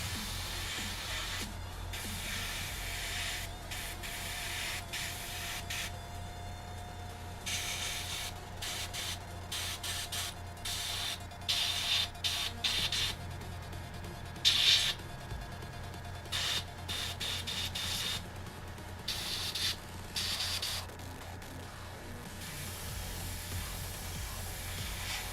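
An airbrush sprays forest green paint onto 1/35 scale AH-1Z Viper and HMMWV models, a soft continuous hiss broken into repeated short bursts and pauses, close and moderately loud, with no talking.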